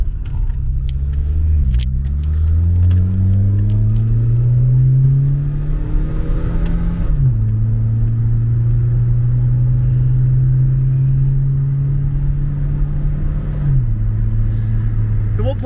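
A light Volkswagen Golf Mk2 with a 75-horsepower 1.6 engine revs loudly while driving. The engine pitch climbs steadily, drops sharply at two gear changes, then settles into a steady drone with a low rumble underneath.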